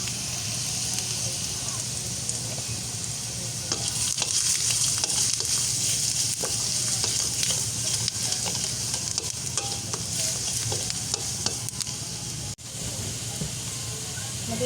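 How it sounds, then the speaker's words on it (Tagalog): Cooked rice fries in a pan for sinangag, giving a continuous loud sizzle with steady hiss and occasional scrapes and clicks of stirring throughout. "Isasangag ko po muna yung kanin."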